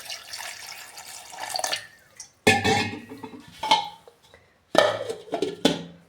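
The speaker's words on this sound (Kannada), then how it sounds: "ಇವಾಗ ನೀರು ಹಾಕ್ಕೋತಾ ಇದ್ದೀನಿ." Water is poured in bursts over crushed ginger in a vessel for a mixer-ground juice, with splashing and clinks of the container between pauses.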